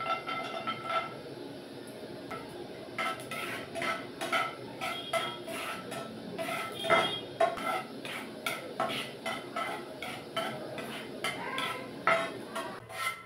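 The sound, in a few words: frying cashews in ghee in a pan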